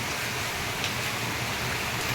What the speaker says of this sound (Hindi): बारिश देखो रुकने का नाम ही नहीं ले रही है